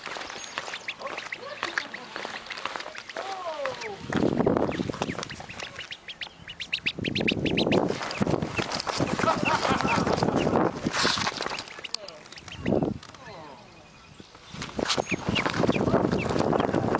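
Ducks quack repeatedly in short bursts, mixed with other animal and background sounds, while people talk over much of it.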